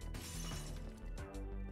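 Glass shattering in a Roblox obby game, a bright crash with scattered tinkling fragments, followed by a second burst of breaking shards, loud and close, with no talk over it.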